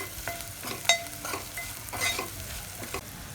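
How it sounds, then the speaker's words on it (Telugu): Onions with a pinch of turmeric frying in oil, stirred with a spoon, with a steady close sizzle broken by several soft scrapes and clinks against the pan, no voices. "కొంచెం ఫ్రై అయ్యేదాకా వేయించుకుందాం."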